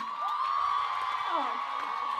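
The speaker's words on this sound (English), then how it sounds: "Give a cheer for Evan" At a university physiotherapy students' beauty pageant, the crowd cheers with loud, rising and falling whoops and shouts that carry through the brief moment.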